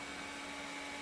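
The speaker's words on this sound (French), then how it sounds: "C'est l'aspirateur robot." A robot vacuum cleaner runs in a home apartment, giving a steady, continuous broadband whir with a constant hum, heard alone without talk.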